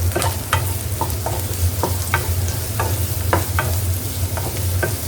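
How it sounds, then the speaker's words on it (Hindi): Onions fry hard in a pan over high gas heat, a loud steady sizzle with sharp crackles and pops scattered throughout, heard alone with no talking. "हाई हीट पे फ्राई करना है, गैस तेज़ है मेरी, और प्याज यहाँ पे हो रहा है फ्राई"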